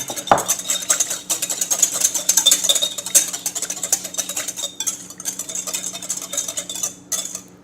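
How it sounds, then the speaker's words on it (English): A whisk beats a salt-and-pepper seasoned mixture with olive oil in a bowl, giving a steady run of quick metallic clinks and scrapes close by, with no talking. "Give another little whisk here"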